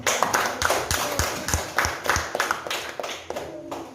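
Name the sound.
applause, clapping hands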